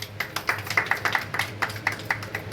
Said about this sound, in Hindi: इसके लिए जोरदार ताली बजनी चाहिए।